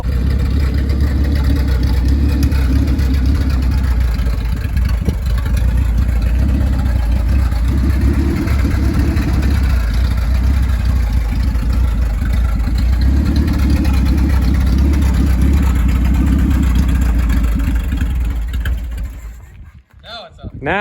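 A Willys CJ3B Jeep prototype engine idles loudly and steadily for a long stretch, then sputters and dies as it runs out of gas, leaving near silence with a brief clatter at the end.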